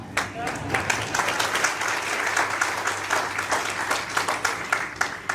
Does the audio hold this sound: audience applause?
yes